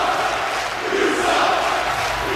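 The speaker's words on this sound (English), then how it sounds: "And do you hear this crowd just booing?" A wrestling arena crowd boos in a loud, steady, sustained roar that fills the whole moment with no pauses.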